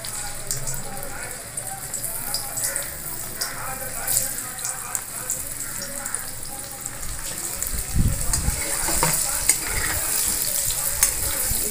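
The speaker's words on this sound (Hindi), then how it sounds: "इसमें हम तेल थोड़ा और डालेंगे, अब आलू के हम फ्राई करेंगे।" Potatoes frying in oil in a kitchen pan, a steady crackling sizzle throughout with occasional stirring clatter and a louder scrape near the end.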